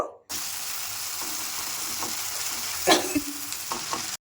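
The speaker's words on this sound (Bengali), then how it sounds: "ভালোভাবে এবারে নাড়াচাড়া করে নেব।" Spice paste sizzles steadily in a hot pan while being stirred, with a few sharper scrapes and clinks of the spoon against the pan partway through; close and continuous, with no talk.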